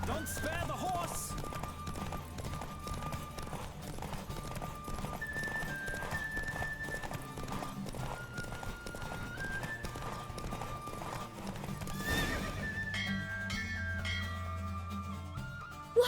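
A horse gallops in The Witcher 3 with steady clip-clop hoofbeats running throughout, set against continuous in-game music and effects.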